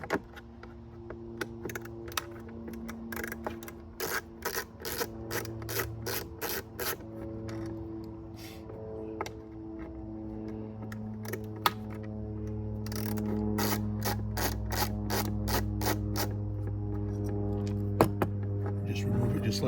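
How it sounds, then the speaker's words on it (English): A screwdriver backs out two Phillips screws from the air cleaner cover of an Infiniti QX60, giving a run of close, rapid ratcheting clicks in bursts with brief pauses between them and a low steady hum underneath. "All we have to do is remove these two Phillips screws"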